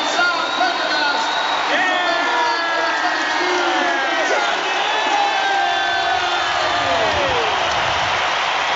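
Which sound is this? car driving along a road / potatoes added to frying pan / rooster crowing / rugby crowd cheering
rugby crowd cheering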